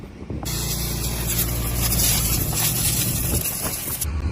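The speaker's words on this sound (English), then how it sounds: "just blowing out the radiator, so it's ready to go for all day long" Compressed air blasts out a tractor radiator on a farm: a loud, steady broadband hiss that starts abruptly and runs unbroken for about three and a half seconds before cutting off, with a low engine rumble beneath.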